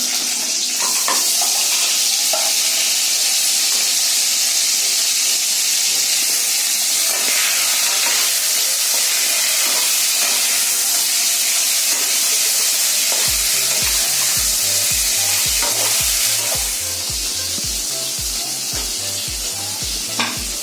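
Crab fries in a pan at home, a loud continuous sizzle and hiss with stirring scrapes running throughout, and a rhythmic low thumping joining in over the last seconds.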